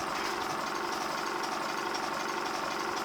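A motor spins a large, heavy rotor mass in a generator demonstration, giving a loud, steady, continuous droning hum with a fine rapid pulsing texture throughout.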